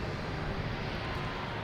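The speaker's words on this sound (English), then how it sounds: "it's an A320 coming in from Fort Myers" A JetBlue Airbus A320 airliner arriving at Boston Logan Airport, heard as a steady, broadband engine roar at a distance, constant in level throughout with no other sounds.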